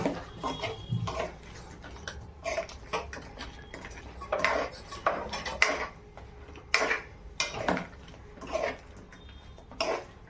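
Manchurian mixture being stirred and mixed in a bowl, with irregular clinks and scrapes of a spoon against the dish, soft and close, in short bursts separated by quiet pauses.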